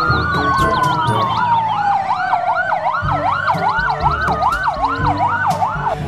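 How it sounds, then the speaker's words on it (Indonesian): Loud electronic siren wailing up and down rapidly, a toy fire-truck style warble with small clicks and rattles underneath. "Wah, ini mobil pemadam kebakaran"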